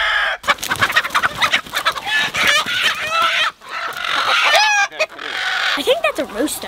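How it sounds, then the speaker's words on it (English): A rooster on a 10-acre homestead crows repeatedly amid loud clucking and flapping from nearby chickens, close and busy, with brief quiet gaps between bursts. "I think that's a rooster."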